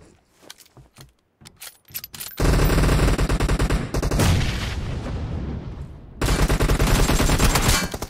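Loud video game gunfire: a few scattered single shots, then long sustained automatic bursts that pause briefly and resume, close and dense.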